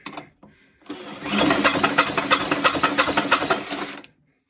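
A damaged Stihl BR600 backpack blower engine is turned over slowly by hand, giving a rapid run of rough, ratcheting mechanical clicks and scraping for about three seconds, close and fairly loud, then stopping.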